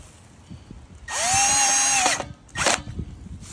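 A powered screwdriver drives a screw into a Hykoont SZ300 solar light pole, a loud steady whine for about a second with a slight rising pitch, then a brief second burst after a short pause.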